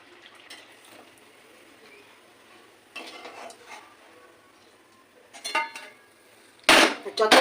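Malpoa batter fritters fry in a kadai while a utensil stirs them, giving intermittent scraping and soft sizzle with louder clattering bursts toward the end.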